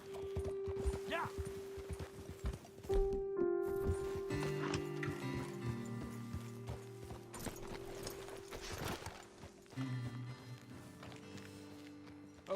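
Horse hooves clip-clop on the ground in the video game Red Dead Redemption 2, rapid uneven beats from more than one horse slowing down, with a snort or whinny, game music, and brief talk over them.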